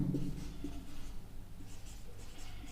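Chalk or pen scratching on a board or paper during a Class 9 maths lesson on triangles, with faint, intermittent strokes in a quiet room and no voices.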